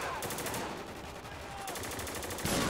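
Rapid automatic gunfire from the video game Spec Ops: The Line, a steady stream of closely spaced shots lasting throughout, moderately loud with no talk over it.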